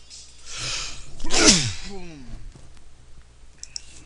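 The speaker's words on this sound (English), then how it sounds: "Well, that was a sneeze out of nowhere." A single sudden human sneeze close to a microphone during a Ys III gameplay session, a sharp loud burst after a brief inhale, followed by a faint trailing exhale and quiet room tone.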